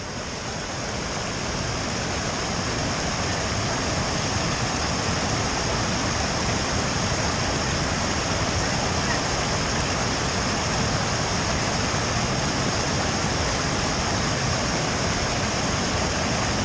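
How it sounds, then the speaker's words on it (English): Rushing creek water near Havasu Falls in the Grand Canyon, a loud, unbroken roar of whitewater that holds steady and close throughout, with no voices. "You'll be in the middle of the creek."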